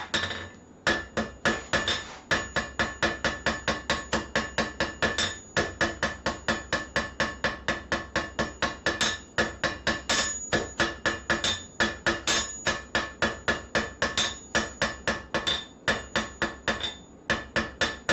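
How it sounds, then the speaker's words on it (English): A hammer strikes metal on a holdfast in a fast, steady, ringing rhythm, near and loud, with only a few short pauses and no talk. "Switch to a different hammer."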